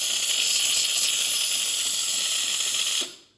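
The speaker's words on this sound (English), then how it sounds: "As you can see, excellent steam coming out from the machine." Steam blasts from the steamer wand of a Philips coffee machine as a loud, steady hiss that lasts about three seconds and then cuts off sharply.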